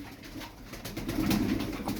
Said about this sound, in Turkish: Burada 11 tane kuş var.